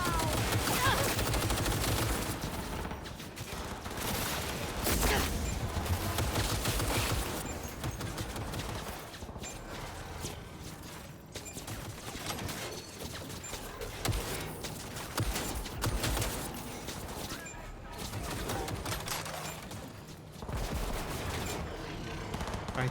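Security turrets in the video game Cyberpunk 2077 fire long, continuous bursts of gunfire, a steady barrage of rapid shots that keeps going with brief dips, with little else audible.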